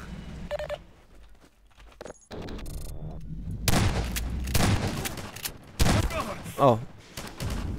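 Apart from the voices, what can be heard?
gunfire from a Combine soldier in the video game Half-Life 2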